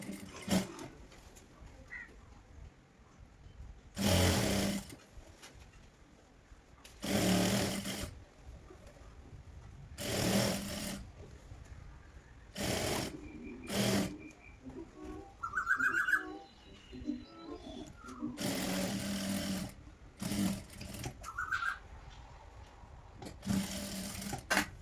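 A sewing machine stitches the folded hem of a palazzo in several separate bursts, each run loud and close, with quieter pauses between runs and some faint chirping in the background.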